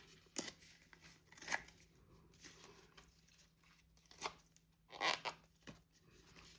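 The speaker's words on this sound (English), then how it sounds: "I don't even cut these off. I just like to go in and rip them." Card paper is torn by hand during Valentine cardmaking, heard as several faint, brief rips and crinkles spaced irregularly in a quiet room.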